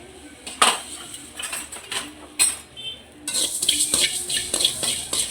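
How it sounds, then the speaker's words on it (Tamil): Coriander seeds are dry-roasted in a pan, with a few separate sharp utensil clinks at first, followed by a denser, continuous rattling stir. "கொஞ்சம் பொன்னிறமாக கொஞ்சம் மல்லி வறுக்கலாம்"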